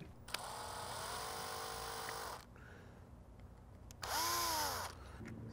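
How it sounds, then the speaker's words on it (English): A power drill boring out a 3D printed part for a replica revolver, two close, loud whirring bursts with a pause between them, the pitch rising and falling as the bit spins up and bites. "I'm gonna drill that out."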